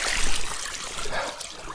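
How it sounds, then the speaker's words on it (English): Creek water trickling and splashing near a spring that rises from a cave, a close, steady babbling wash with no voices. "This is this creek."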